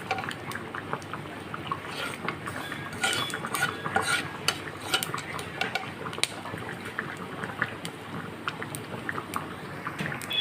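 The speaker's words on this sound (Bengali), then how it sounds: "এবার 5 ফোড়ন আর শুকনো লঙ্কাটাকে আমি নাড়াচাড়া করে ভালো করে ভেজে নেব" Dry red chillies and panch phoron frying in a pan while being stirred, soft continuous sizzle under repeated light scraping and metal clinks of a spatula, close and steady throughout, no speech.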